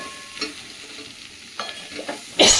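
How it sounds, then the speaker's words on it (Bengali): Sweet-sour bilati amra chutney mixture frying in a pan, a soft low sizzle punctuated by a few scraping stirs and a louder hissing burst at the end, close by, no voices. "এটা ভালো করে ভেজে নিতে হবে।"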